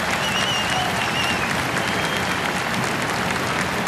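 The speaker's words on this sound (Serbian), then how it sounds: "I hoću jedan veliki aplauz za sve naše penzionere" A big outdoor rally crowd in Belgrade claps continuously and densely, with a few whistles rising above the even roar of applause throughout, with no speech over it.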